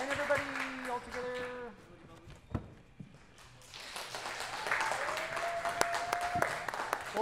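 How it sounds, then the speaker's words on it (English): Audience applause at a school year-end concert swells into a broad, steady clatter of clapping after a short stretch of tonal sound and a quiet gap. "Applause, applause."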